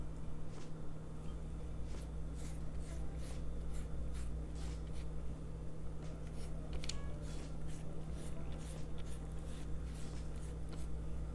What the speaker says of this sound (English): I'm just gonna put my egg wash on all of them.